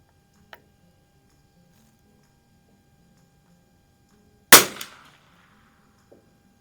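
A Sears Ranger rifle fires CCI ammunition in a single sharp, loud gunshot with a short decaying tail, alone amid near silence. Two faint clicks come before and after it.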